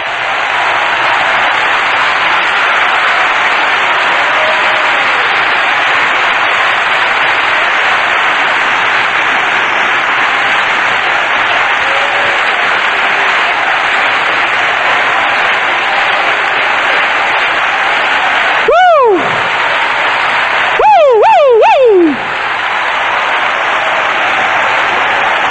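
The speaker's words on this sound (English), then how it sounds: "Everybody clap your hands to the Lord." Church congregation at a 1984 general conference claps hands continuously in a dense, steady roar that fills the whole span, with a few brief squealing tones near the end.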